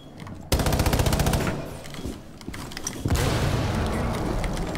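Rapid automatic gunfire in Rainbow Six Siege on the Gridlock operator, loud, close bursts that start abruptly, ease off briefly, then resume in a dense sustained stream.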